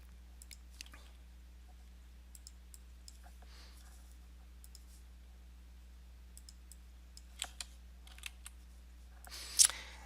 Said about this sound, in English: I'm going to click on one of them.